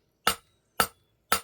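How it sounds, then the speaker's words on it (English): Three sharp hammer blows on hot metal during forging practice, evenly spaced about half a second apart, each a bright ringing clank that decays quickly. Close up with no talk. "tilt your hammer here, and you're hitting little bitty spots"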